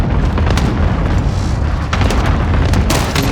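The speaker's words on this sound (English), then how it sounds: "Enemy cluster strike." Cluster strike explosions in a battle-royale video game roll out as a continuous barrage of loud, dense booms and blasts that overlap with no gaps for the whole stretch.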